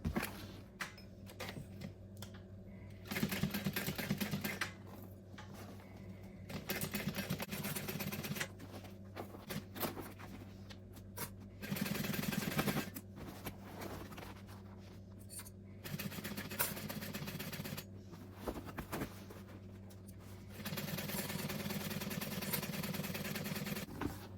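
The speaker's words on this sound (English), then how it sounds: "now I'm gonna come here and I'm going to sew this at the seam allowance" Home sewing machine running in bursts as it stitches the seam of a fabric tote bag, a steady mechanical whir starting and stopping several times with short pauses between runs, close and moderately loud.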